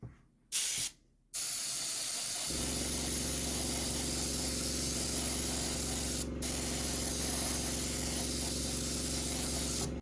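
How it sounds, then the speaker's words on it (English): A steady, continuous hiss of black spray paint being released onto a model's base and stands, broken by a couple of short pauses near the start and one brief dip later. "Now just cleaning up the base and stands just by spraying it with black."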